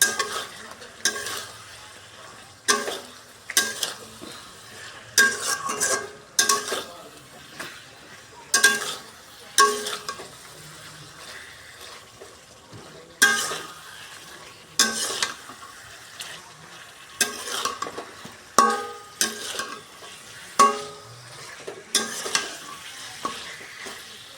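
Spices frying in oil in a pan while being stirred for a flour bulton dish, with repeated scraping stir strokes over a steady close sizzle, loud bursts coming every second or so.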